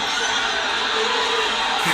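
A loud, close crowd cheers and whoops in a continuous wall of shouting voices that stays at full level the whole time, with children's shrieks mixed into the roar.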